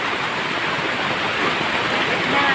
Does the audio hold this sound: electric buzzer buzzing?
no